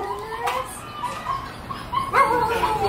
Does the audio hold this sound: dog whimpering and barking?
yes